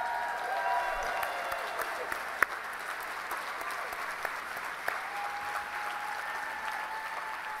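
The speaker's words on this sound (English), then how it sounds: "stand or raise your hand and let us applaud you" A conference crowd at an activist gathering breaks into sustained, full applause, a steady wash of clapping with a few sharper claps popping out near and far.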